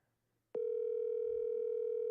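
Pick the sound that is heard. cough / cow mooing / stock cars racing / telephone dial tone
telephone dial tone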